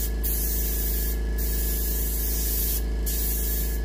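Steady hiss of an airbrush laying a light to medium sweeping coat of paint onto a muskie fish mount for taxidermy, sustained and close, with three brief louder bursts as the spray flow spikes.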